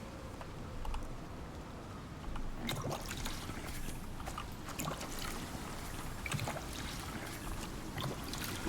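Rain falls steadily in a video game, a constant soft wash of patter with scattered brief clicks and taps over it, faint and continuous throughout.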